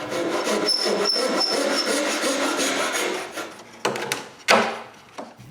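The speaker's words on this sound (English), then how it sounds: "since it's still too long, I return to the sander" A power sander working a small piece of wood for a bathroom vanity, a steady abrasive rasping buzz for several seconds, then the grinding breaks into a few short louder bursts and tails off, heard close and alone.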